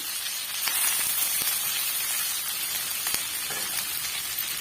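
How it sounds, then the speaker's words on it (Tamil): Curry leaves sauté in a hot pan for a curry leaf thokku, giving a steady close sizzle and hiss with occasional sharper crackles and stirring scrapes. "கருவேப்பிலை சேர்த்து நம்ம வதக்க தான் வேணும்"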